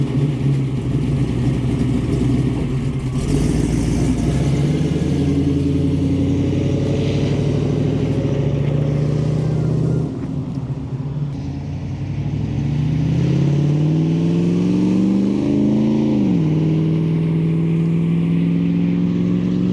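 A 1987 Jeep Wagoneer engine runs loudly and close as it drives past, its drone rising and falling with revving and gear shifts, dips briefly, then builds again.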